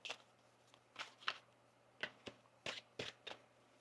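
Tarot cards being shuffled between draws, a series of faint soft flicks and papery slaps in an irregular rhythm close by, over a low steady hum, with no talk.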